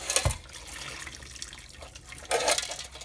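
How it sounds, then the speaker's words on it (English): Hot water poured out of a container holding Remington 1858 revolver parts after a bath, heard as two close, loud splashing bursts with a quieter trickle between them. "And then we're going to dump this water out."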